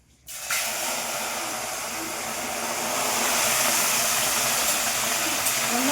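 Water poured into a pan of hot vegetables bursts into a loud, close hiss of steam and sizzle that starts suddenly and keeps roaring steadily without a break.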